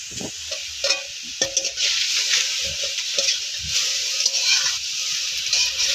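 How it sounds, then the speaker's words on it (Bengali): Grated carrots and bay leaves frying in hot ghee for carrot halwa give a loud, steady close sizzle, broken by a few soft stirring knocks near the start. "ঘি গরম হয়ে গেছে, এবার আমরা ছেঁচে রাখা গাজরগুলো দিয়ে দেবো।"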